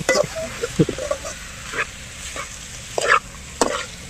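Chicken fries in oil in a pan for village-style chilli chicken pallipalayam, with bursts of sizzling and stirring scrapes that rise and fall over a low crackle, heard up close.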